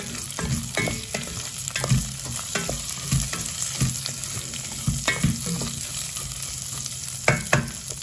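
Red rice being stirred and fried in a pan with salt and pepper: a steady sizzle broken by repeated scraping stirs at an uneven rhythm, close up and with no talking.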